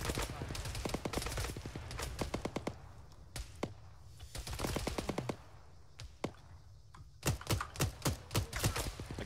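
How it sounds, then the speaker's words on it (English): Rapid clicking of a mouse or keyboard by a player during an ArmA 3 military game session, sharp taps in irregular bursts with quiet gaps, heard close alongside voices talking over team chat. "I can hear you're clicking."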